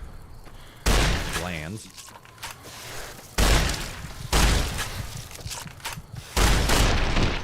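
Gunfire in Fallout: New Vegas comes in heavy, booming bursts, four loud shots or blasts spaced a second or two apart, with someone talking over the game between them.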